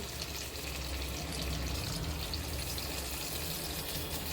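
Water goes into an okra and potato curry cooking in a kadai, giving a steady, close sizzling and bubbling wash that continues evenly throughout with no voices.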